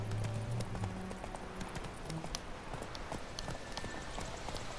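Roach, Geralt's horse in The Witcher 3, galloping with quick, rhythmic hoofbeats close up, accompanied by low game music and ambient rumble.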